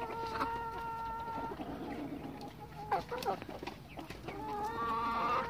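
A young rooster and chickens in a coop give drawn-out calls and clucks, fairly faint, with a short burst of scratchy activity midway and a voice speaking briefly.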